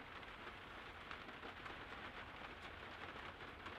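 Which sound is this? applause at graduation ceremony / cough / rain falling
rain falling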